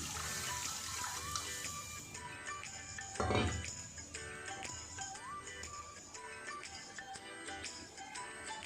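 Water is poured into mustard paste for mustard hilsa, giving a continuous close trickle and splash with one louder gush midway. No voices are heard.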